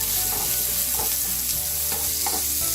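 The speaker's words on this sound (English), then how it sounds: "So we're going to saute this till the onions are light brown and softened." Diced white onions and finely diced cilantro stalks sauté in a pan, giving a continuous close, even sizzle with a few soft stirring scrapes and no talking.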